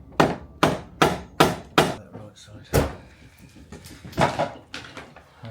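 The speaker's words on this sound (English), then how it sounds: "We can give them a whack with hammer" Sharp metallic whacks of a hammer on a vehicle's metal parts, four in quick succession, then a few more spaced strikes with scraping and handling noises in between.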